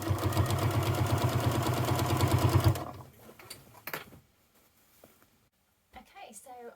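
A sewing machine stitches binding onto a quilt with a fast, steady, close mechanical whirr that runs for under three seconds and then stops, followed by quiet handling sounds.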